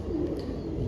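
A breeding pigeon coos in low, soft, continuous murmurs, close to the listener, with no other sounds around it.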